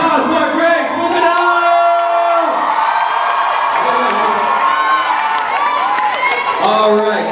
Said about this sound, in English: one more round of applause for Greg's moving